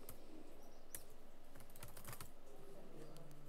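Light typing on a computer keyboard during a PowerPoint lesson, a steady patter of soft key clicks, faint and close, with no talking.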